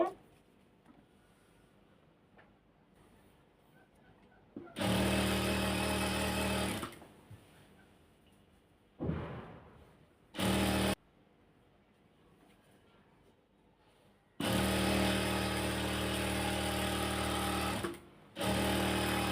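A home sewing machine stitches a hijab in repeated loud bursts, each running a couple of seconds or more with pauses of quiet between, close to the listener and with no talking.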